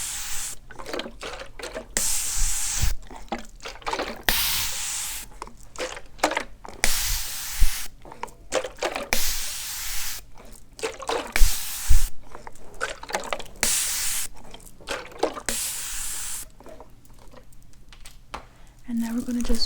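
Repeated bursts from a spray bottle misting water onto curly hair on a mannequin head, a dozen or so short close hisses in an uneven rhythm with quiet handling noises between.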